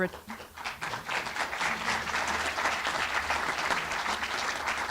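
An audience at a journalism hall of fame ceremony applauds an inductee, clapping rising quickly and sustaining steadily for several seconds at moderate loudness.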